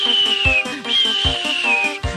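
A steam engine's whistle sounds as a long, steady high tone held for over a second, broken off and then blown again, against the rhythmic chuffing and clatter of the running locomotive.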